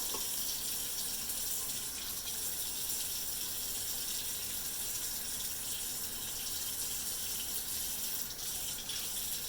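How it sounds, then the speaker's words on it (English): Water runs continuously into a bowl of cold water holding crabs for a crab boil, a steady close gushing rush that stays even throughout. "we're going to just put them in a bowl of cold water."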